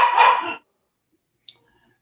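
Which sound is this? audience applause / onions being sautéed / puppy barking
puppy barking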